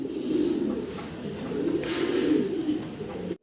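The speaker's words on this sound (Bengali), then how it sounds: "আর অনেক বড় সড়ো সাইজের আর ডাকতেছে ঘুরা ঘুরা দেখেন অসাধারণ সুন্দর ডাক" Large grizzle-coloured Spanish pigeon cooing steadily and close, a continuous low rolling coo with no talk over it.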